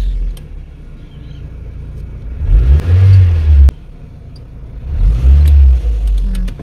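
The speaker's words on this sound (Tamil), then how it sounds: "ஸோ ஆக்சிலரேட்டர் வந்து பாருங்க, இது ஆக்சிலரேட்டர்." A car's engine revs in two strong bursts through a retrofit hand accelerator control, rising from a low rumble to a loud roar and settling back in between. Nobody speaks.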